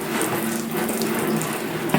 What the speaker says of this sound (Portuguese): Eu jogo um pouco d'água